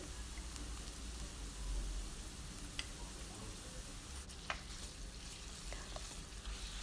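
Potatoes and carrots sauté quietly in a pan with a soft, continuous sizzle, with a few faint clicks and scrapes of stirring now and then.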